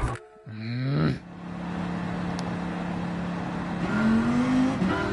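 A race car drifting in Gran Turismo 7, its engine revving in rising sweeps near the start, holding a steady drone, then climbing again toward the end.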